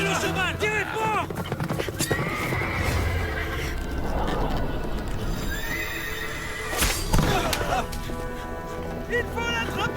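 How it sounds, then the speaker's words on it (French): Horses neigh and whinny repeatedly over steady galloping hoofbeats in a chaotic chase scene, with shouting voices and a dramatic score layered throughout. "Il faut faire tomber le cheval!"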